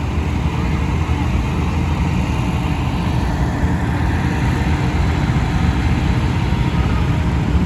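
A Super WD9 tractor, imported from Canada, runs steadily at a vintage tractor rally, its engine note a continuous low rumble at a constant level with no voices over it.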